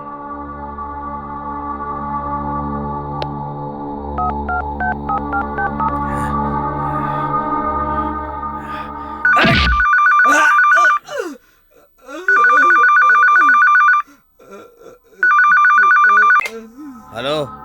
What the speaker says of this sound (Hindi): जा मदुरई फोन लगा।